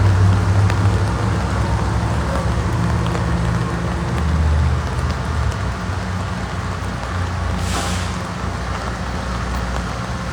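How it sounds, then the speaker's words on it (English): Steady rain falls across a downtown Shreveport street at the corner of Texas Street and Market Street, near the old Dripp Donuts building being demolished, with a continuous broadband hiss and low traffic rumble throughout. "This rain is just really doing a number on my phone."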